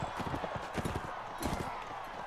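Horse hooves clip-clopping as a rider travels in Mount & Blade: Warband, a quick steady rhythm of close hoofbeats with brief voice-like sounds mixed in.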